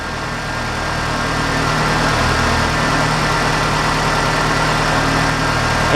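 A Ford Ranger engine with a suspected bad fuel pump and a lean P0171 fault idles steadily and close by, with a constant low rumble and hum and no speech over it.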